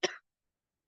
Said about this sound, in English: I have a bit of a cough, so it's good. There's gonna be a lot of coughing in this.